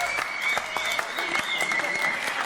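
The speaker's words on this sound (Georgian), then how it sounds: "აპლოდისმენტები!" Studio audience applauding on a Georgian entertainment show, a brief burst of clapping with a steady tone running beneath it.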